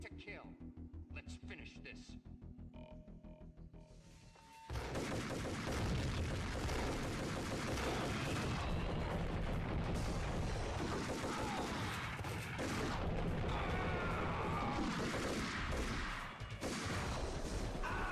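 Dense, continuous gunfire from the Max Payne video game, loud and sustained with booming shots and rapid bursts after a quieter opening stretch.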